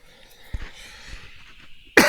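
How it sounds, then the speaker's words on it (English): A single loud, close cough bursts out at the end after a stretch of quiet background with a couple of soft knocks. "Sorry, I have coughing."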